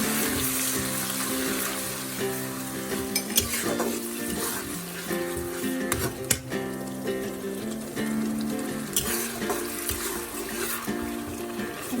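Blended onion paste sizzling and frying in a pan for a Bengali dish, a steady close hiss with occasional clatter of a utensil stirring and scraping against the pan, with no talking.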